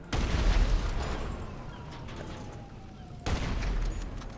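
Gunfire in GTA V, two loud bursts of shots about three seconds apart, each with a booming low-end crack and a rolling tail, the gap filled by a quieter ringing decay.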